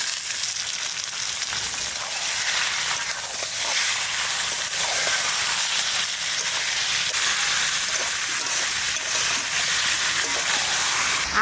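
Chicken rubbed with salt and turmeric goes onto lightly browned chopped onions in a dry pan with no water, setting off a loud, continuous sizzle and hiss throughout.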